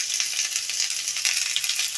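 Loud, steady hiss of chili, turmeric and salt frying in a pan while being stirred for Maggi noodles, a continuous close sizzle with no voices.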